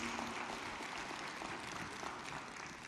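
A church congregation applauds during a worship service in a steady, dense wash of clapping that stays even from start to finish, heard from some distance and fairly faint.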